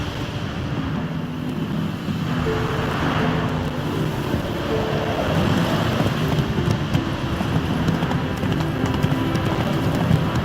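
Hooves of Roach, the horse in The Witcher 3 video game, clip-clop at a steady, moderate pace on firm ground, close and even, over a soft background of wind and ambient noise.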